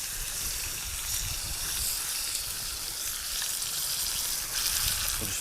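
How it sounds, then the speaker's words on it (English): Steak frying in a hot pan over an open campfire, a steady dense sizzle and hiss running continuously and loudly throughout with no talk. "We'll just fry this steak and get some colour into it."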